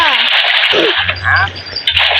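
Water splashing and gushing as a pool fills in Minecraft, heard in short bursts of sloshing and splatter with a voice speaking over parts of it.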